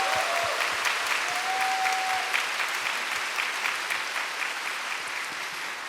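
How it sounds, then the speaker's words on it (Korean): A church congregation at a Thanksgiving Sunday family service at Bupyeong Methodist Church claps together in sustained, dense applause that gradually eases off, with a brief thin whistle-like tone early on. "다 함께 감사의 박수로 시작하도록 하겠습니다."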